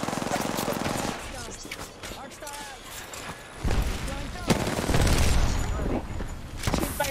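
Gunfire in the battle-royale shooter Apex Legends, with loud bursts and rapid shots cracking out across the clip over dense game noise, and a player talking throughout.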